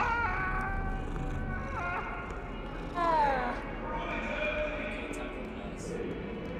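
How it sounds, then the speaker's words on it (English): A cat in Hogwarts Legacy gives several plaintive meows, one louder drawn-out cry in the middle, over soft game ambience while a person talks. "A cat."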